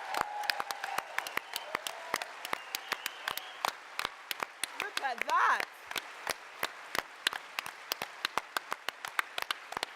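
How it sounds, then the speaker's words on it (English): A Labour Women's Conference audience claps in sparse, sharp, separate hand claps spread across the stretch rather than a dense wave. A voice speaks briefly over the claps. "Give them a round of applause."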